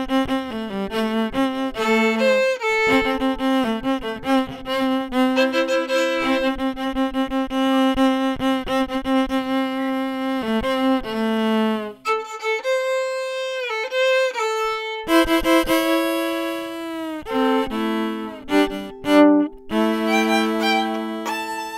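Solo fiddle plays a melodic line and answers it with short echo-style fills, bowed notes and quick phrases with brief pauses between them, close and clear with no talking.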